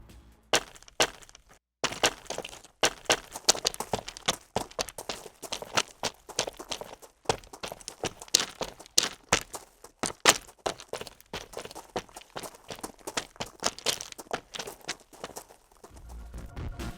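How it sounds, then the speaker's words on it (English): Foley footsteps in a group pass from the Edward Ultimate sound library, with two characters walking at once: brisk, dense, overlapping hard-soled steps tapping continuously and close, with a short pause near the start. "This will allow you to do a group pass of footsteps very easily."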